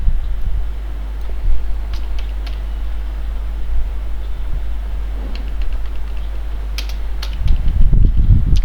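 Steady close-up typing on a computer keyboard while writing code in Visual Studio, with light irregular key clicks over a constant low hum, picking up in the final seconds.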